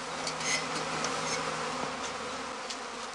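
Honeybee swarm cluster near a collecting straw skep, giving a steady, dense buzz throughout with no talk.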